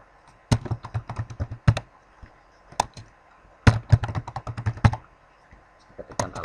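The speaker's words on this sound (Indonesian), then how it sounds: "Saya ketikkan alamat." Fingers type on a computer keyboard, tapping out an address in short uneven bursts of close, crisp keystrokes separated by brief pauses, with no voices.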